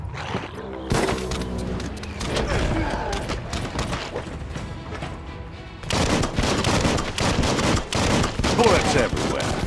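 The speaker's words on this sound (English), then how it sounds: "Bullets everywhere." Bullets fly in the video game Biomutant as dense, rapid gunfire rattles on continuously, growing louder and fuller in the second half, with occasional mechanical clanks mixed in.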